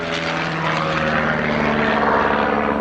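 A de Havilland DHC-1 Chipmunk T10 propeller trainer flies at an air day, its piston engine and propeller giving a steady, loud drone that holds without a break.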